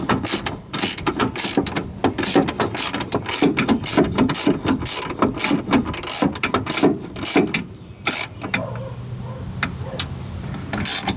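A ratchet wrench snugs down bolts by hand while fitting a rear camber kit on a 1992-2000 Honda Civic, producing close, steady runs of rapid clicking with brief pauses between strokes.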